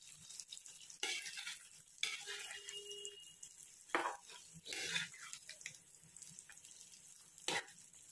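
An olive pickle mixture fries in a pan, with a faint low sizzle broken by several loud bursts of stirring and scraping at irregular intervals.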